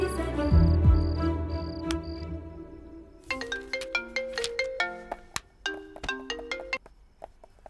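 An outgoing phone call rings with repeated short ringback beeps at the start, and then a melodic ringtone plays on its own in distinct, evenly spaced notes.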